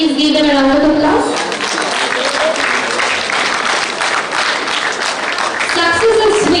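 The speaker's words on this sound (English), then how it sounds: "Please give them a round of applause." Prize-winning students at a school annual day in Chikmagalur are met with loud, sustained applause from the audience, with an amplified voice and music heard at the start and end.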